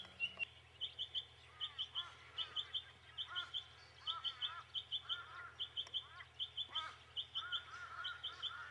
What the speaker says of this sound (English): I just thought I'd just have a listen to some of the bird life at this time of the morning